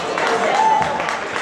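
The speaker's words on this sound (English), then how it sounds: "Applause for Lee, who kept the Knolls Eagles in the game with a strong effort." Crowd applause in a basketball gym as a Knolls Eagles player fouls out late in a game against Manchester, a steady, even wash of clapping lasting a moment with a faint tonal whistle through the middle.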